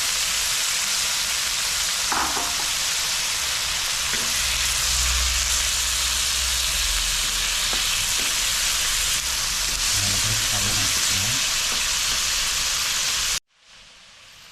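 Shrimp sizzling steadily in a hot pan for sotanghon guisado, a continuous close frying hiss with light stirring clatters, cutting off abruptly near the end.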